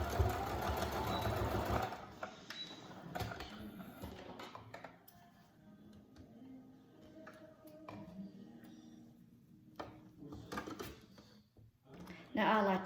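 Sewing machine stitching a child's fabric face mask, a burst of fast rhythmic mechanical whirring up close, then pauses and short stitching runs, with someone talking in between.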